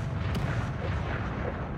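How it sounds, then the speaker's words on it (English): Artillery shelling in the Cauldrons of War: Stalingrad strategy game, a dense, continuous low rumble of overlapping booms with one sharper crack, all moderately loud and without pauses. "let's do a round of shelling"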